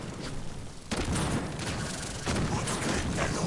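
Ember's World on Fire ability in the Warframe video game strikes corrupted butchers with loud, dense bursts of fiery blasts and booms, two big surges of crackling impact noise in quick succession.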